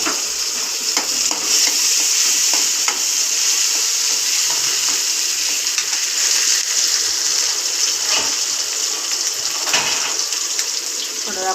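A tomato dropped into frying farasbi bhaji (French bean stir-fry), giving a loud, continuous close sizzle with a few scraping stirs over the hiss.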